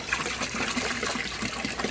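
Rinse water poured from a jug into a cold brew rig, a steady close splashing trickle running through without pause and no talk.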